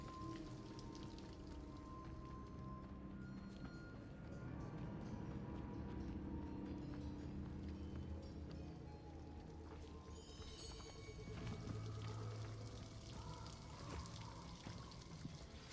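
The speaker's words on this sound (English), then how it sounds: "The waterfall." A waterfall in the video game Hogwarts Legacy gives a steady, faint rush of falling water, a continuous broadband hiss with a brief brighter splash partway through.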